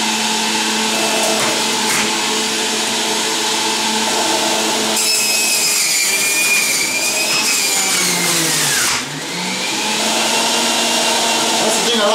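A Breville juicer grinding fresh ginger for green juice, its motor roaring in a loud, continuous high whine with gritty shredding, briefly dipping and then picking back up near the end.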